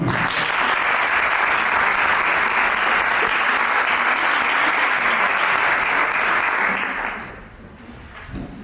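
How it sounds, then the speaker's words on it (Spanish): Audience applause at a talk on true love: a dense, loud burst of clapping sustained for about seven seconds, then quickly fading to near silence. "Un fuerte aplauso, por favor."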